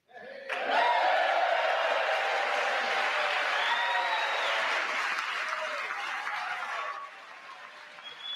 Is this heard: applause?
yes